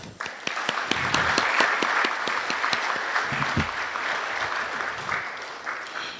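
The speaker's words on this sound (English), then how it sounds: "I would like to take this opportunity to offer the BOA a round of applause" An audience at an awards event in Barbados applauds the BOA with dense, lively clapping from a sizeable crowd. A few sharp individual claps stand out before the sound gradually fades.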